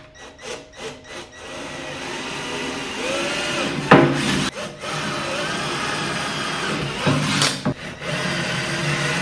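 A drill with a 1/2 inch bit grinds holes in several bursts, with rough rasping and a few sharp catches, nearby and loud with brief pauses between.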